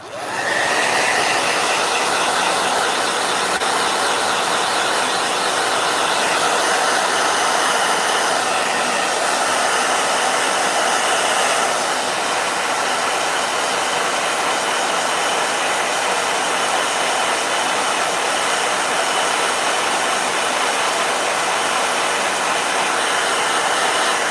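A blow dryer runs continuously at close range, a loud and steady rushing whir with no breaks or voices.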